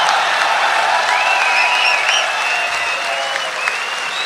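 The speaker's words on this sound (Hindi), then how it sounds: "जोरदार तालियों के साथ बुलाइएगा।" Sustained audience applause at an Urdu poetry mushaira, dense continuous clapping from a large crowd with a few whistles on top, loud and steady throughout.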